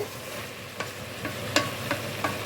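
Paneer pulao is stirred in a pot on the stove, a low simmering sizzle punctuated by four or five crisp scrapes of a ladle against the pot, close and without talking.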